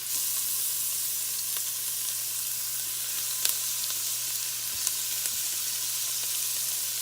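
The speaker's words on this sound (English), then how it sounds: "now we're going to let those onions just start sauteing just a few minutes" Onions and ground beef sautéing in a soup pot, a steady close sizzle with a few faint stirring clicks and no talking.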